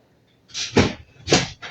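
A wooden desk drawer sliding open and shut at close range: two rushing slides, each ending in a soft thud, then a short third scrape, with no voices.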